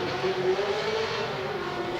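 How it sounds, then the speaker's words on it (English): A supercharged V8 race car engine at Irwindale holds a steady, loud drone for two seconds, its pitch rising slightly as the car runs at speed. "This supercharged V8."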